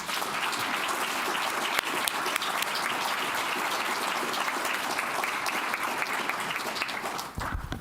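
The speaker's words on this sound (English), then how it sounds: "give all of our speakers a huge round of applause" An audience at a regional growth and conservation program applauds its speakers, a steady, even patter of many hands in a room that carries for several seconds before cutting off abruptly near the end.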